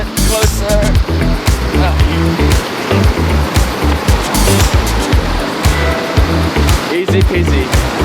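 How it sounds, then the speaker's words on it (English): Waterfall at Lake Caburgua near Pucón, Chile, a loud, continuous rush of falling water close by, with heavy low-frequency rumble and some wind buffeting on the microphone, without talk. "Here guys is the waterfalls right there in front of me."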